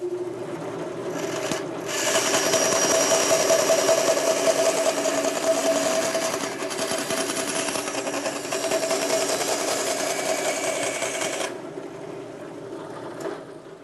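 A bandsaw with a narrow half-inch blade running in a machine shop, a steady loud whir and rasp of cutting for about ten seconds before it eases off.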